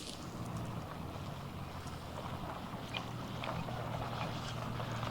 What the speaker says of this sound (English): wind's coming up here a little bit